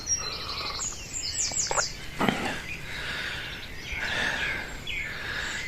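Small birds chirp and tweet at dawn on a farm, with rapid high calls and trills near and far over a soft, steady outdoor background; nobody speaks.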